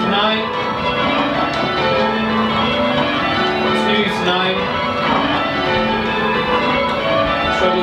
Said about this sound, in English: why do you enjoy bell ringing so much?